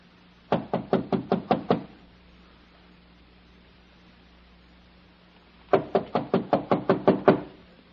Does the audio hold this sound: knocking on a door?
yes